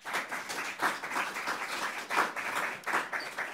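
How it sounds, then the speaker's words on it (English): A forum audience applauds event staff with a steady wash of many hands clapping, swelling in a few louder surges over several seconds at moderate distance. "So if you could give them a round of applause."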